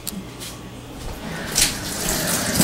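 Tap water runs into a kitchen sink while leeks are opened up and rinsed of sand and grit, a steady close hiss and splash that swells briefly midway, with no talk over it.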